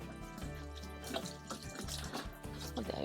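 Water trickles and splashes while tomato plants are watered by hand in a greenhouse, a close, uneven running pour with intermittent drips and gurgles and no talking.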